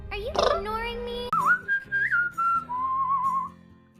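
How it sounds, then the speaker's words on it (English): A person whistles a wavering melody, sliding up and down in pitch and holding a few long notes, clear and close, with some rustling underneath. "I wish I could whistle like that."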